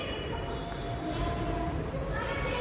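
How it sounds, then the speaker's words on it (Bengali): A train rumbles past overhead on a railway line above a road underpass, a steady, continuous roar with faint metallic squeals, fairly distant and muffled, no talking. "ওপর দিয়ে ট্রেন যাচ্ছে"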